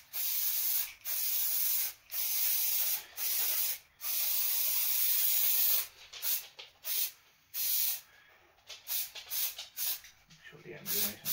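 Repeated hissing bursts of a contact adhesive spray can, several short sprays in a row followed by choppier, broken spurts and faint rustling.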